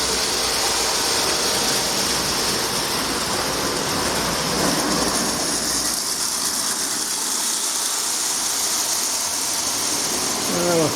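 A gray and yellow Marx E7 Western Pacific diesel A-B-A reproduction model train runs steadily around a layout of tight 27-inch curves, a continuous close mechanical whir and rattle with a faint squeal near the end.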